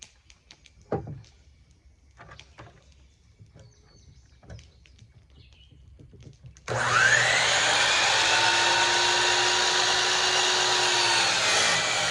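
A power saw starts up partway through and runs with a loud, steady motor whine while cutting wood pieces for a planter box, following a few quiet clicks and handling sounds.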